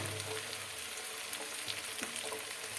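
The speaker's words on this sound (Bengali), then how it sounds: "পেঁয়াজের সঙ্গে আদা রসুনটা ভালো করে একটু ভেজে নেওয়া হবে" Onion with ginger and garlic sizzles and fries steadily in a pan, with a faint scrape or two of stirring, close and continuous with no talk.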